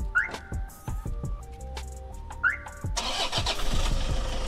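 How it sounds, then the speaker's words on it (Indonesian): A Toyota Innova, nearly ten years old, is started by remote: a short cranking burst catches into an engine running close by, with a steady mid-pitched hum and a louder broadband rise near the end. "Nyala mobil, spion ngebuka."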